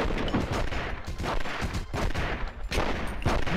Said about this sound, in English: Oh, itu senjata shotgun.